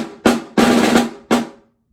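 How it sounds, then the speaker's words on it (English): Snare drum buzz rolls played as three separate bursts: a short one, a longer sustained one, then a final short roll that ends in a quick decay. Each burst is dense and fairly loud, played alone in practice for a junior high band camp audition etude. "Now if we buzz it, we're going to get a really good sounding buzz roll using that speed."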